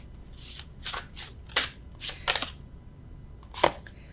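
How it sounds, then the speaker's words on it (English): Tarot cards are shuffled by hand rather than riffled, making a series of soft, crisp swishing slides in irregular bursts, with a pause before a final sharp one, close up in a quiet room. "Normally I riffle shuffle, but I don't feel like it."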